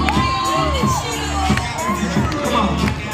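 A large crowd at a summit gathering cheers and shouts continuously, dense and loud, with whoops rising over the roar and no clear single voice.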